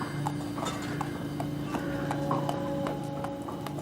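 Horse hooves clip-clopping at a steady, even walk on a hard surface near a theater's rear stage entrance, the regular hoof strikes repeating over a continuous background hum.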